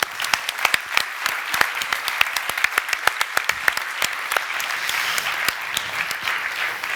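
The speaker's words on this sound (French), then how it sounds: "Vous pouvez vous applaudir." Audience at a graduation ceremony applauding, a dense run of sharp handclaps that carries on steadily for several seconds, fairly close and with no talking over it.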